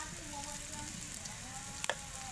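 Onions with turmeric and salt sauté in oil, a soft, continuous sizzle under a quiet hum, with a brief utensil clink near the end.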